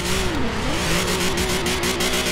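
A Golf 4 GTI drifts in Forza Horizon 4, its engine holding a steady wavering drone while the tyres hiss and squeal continuously at close range, loud throughout with no pause.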